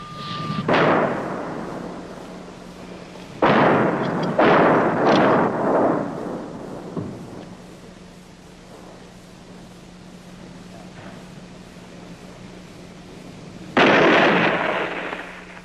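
Artillery fire from fighting around Long Chen in Laos, heard as several heavy booming bursts with rumbling tails, one near the start, a cluster around four seconds and another near fourteen seconds, over a steady low hum.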